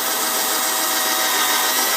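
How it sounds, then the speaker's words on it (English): A power drill with a bit bores a hole down through a piece of pallet wood in a garden, a steady, close, dense whirring and grinding throughout with no pauses. "Just drilling a hole down through this piece of wood."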